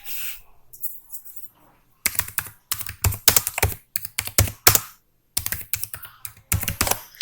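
Fingers typing text into an Excel spreadsheet on a computer keyboard, close, irregular clusters of sharp key clicks broken by short silent gaps.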